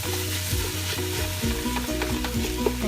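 Ground turkey browning in a pan for simple chili, hissing and sizzling steadily up close while being stirred, with a faint hum and no talking.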